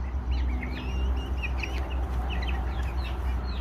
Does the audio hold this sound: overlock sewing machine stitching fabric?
no